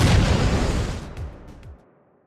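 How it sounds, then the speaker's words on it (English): Explosions in the shooter game Valorant go off as a dense, loud rumbling burst lasting about a second, followed by a few quieter thuds and pops that fade out, with no voices. "Explosions?"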